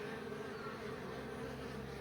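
Honeybees in a hive built inside a chimney give a steady, dense buzzing hum. It is faint but continuous, with no pauses and no voices.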